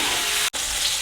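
Steak sizzles loudly in a hot pan just after being flipped for peppercorn steak au poivre, a steady close crackle broken by a split-second gap of near silence midway.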